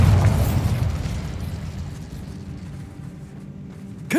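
A Bombarda explosion spell goes off in the Hogwarts Legacy video game, a single loud boom and burst that decays over a few seconds, with a short sharp sound at the end.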